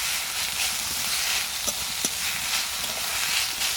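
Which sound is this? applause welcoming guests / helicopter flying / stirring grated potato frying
stirring grated potato frying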